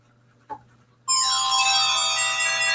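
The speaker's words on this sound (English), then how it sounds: "That's my phone." A mobile phone ringtone bursts in after a brief soft click, then plays a bright, sustained chiming melody, clear and close in a quiet room.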